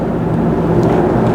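A fixed-wing airplane flies overhead, a steady low broadband roar that fills the whole moment at even loudness with no voices over it.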